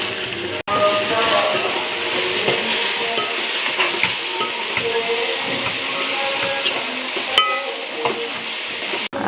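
Onions with green chillies, mint and curry leaves frying in a pan: a steady, close sizzle and hiss with occasional scraping stirs, continuous throughout with no one speaking.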